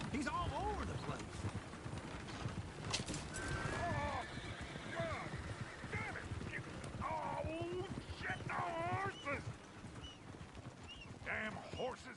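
Horses in a PS4 video game whinny and neigh repeatedly over a steady clip-clop of hooves, the calls rising and falling across the scene while voices talk underneath.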